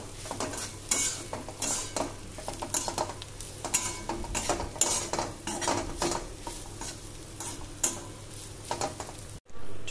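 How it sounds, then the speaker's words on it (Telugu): Mutton frying in oil with meat masala in a pan, heard as a continuous close sizzle under repeated scraping and stirring clatter of a metal spoon against the pan, with brief knocks and no speech. "కలిపేసుకొని ఇప్పుడు ఆయిల్ సపరేట్ అయ్యేంత వరకు అయితే ఫ్రై చేసుకుందాం"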